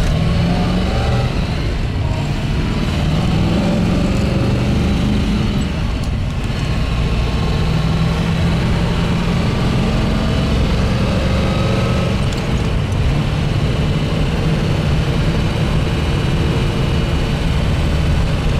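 Continuous low engine drone from a 1963 fuel-injected Corvette while driving on the road, a steady rumble with wind and road noise and no talking.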